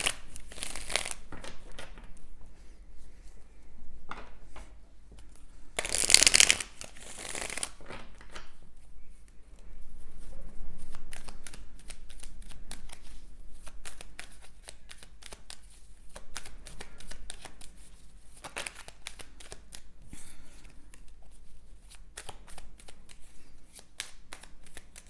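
Tarot cards are shuffled by hand in short, crisp riffling bursts, one loud flurry near the middle and softer repeated slides and taps throughout, close and without talk.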